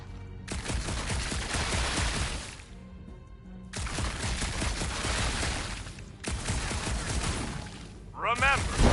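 Gunfire in Marvel's Guardians of the Galaxy comes in three long sustained bursts of rapid, dense shots, loud and close, separated by short pauses, with a brief sweeping electronic effect at the end.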